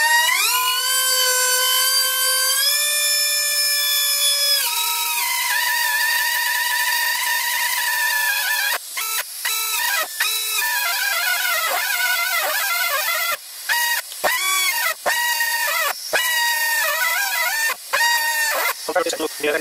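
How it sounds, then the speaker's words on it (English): A cheap Chinese air grinder runs at high speed, a loud sustained whine that drops in pitch as the air tank pressure falls, broken later by short gaps and surges. "With a full tank of air it works reasonably well, but this little grinder drains that tank in minutes,"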